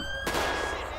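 A single sharp gunshot cracks out in GTA V's LSPDFR police mod, followed by a short decaying echo over a steady engine-like hum.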